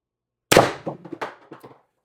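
A single sharp shot from an X-68 Storm Trooper airgun fitted with an expansion chamber, a loud close crack followed by a rapid rattle of metallic clanks and echoes that fade within about a second.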